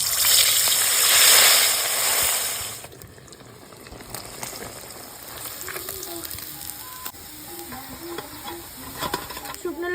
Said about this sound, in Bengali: তো চলো এবার মাছগুলো ভেজে নিই।